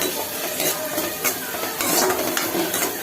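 Quail sautéing in a hot pan with garlic, a steady dense sizzle close up with scattered scraping and clinks of a spoon against the pan throughout.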